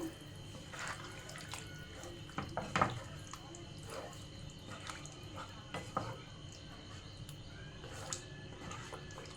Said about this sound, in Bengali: বাটি ধোয়া জলটাই আমি দিয়ে দেবো ওখানে অল্প।